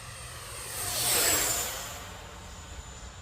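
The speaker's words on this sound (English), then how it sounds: "it's flying just really nice, man. F-16s are just so nimble" A Freewing 70mm F-16 V3 RC jet makes a single flyby, its ducted-fan whine swelling as it approaches close and then fading away, heard alone without voices.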